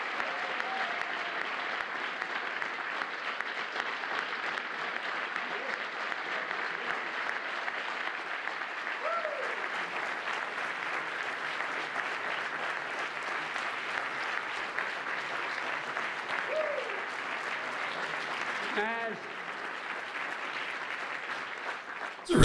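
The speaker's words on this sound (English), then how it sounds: "It's a real drawn-out applause." Long, sustained applause from a large audience during a speech on health-care coverage, a dense, steady roar of clapping holding for over twenty seconds with faint voices and whistles inside it before easing off near the end.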